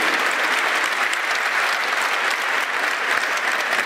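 Steady, loud applause from an audience at a scholarship ceremony in a municipal gymnasium, dense clapping that holds evenly for the whole stretch with no talk over it.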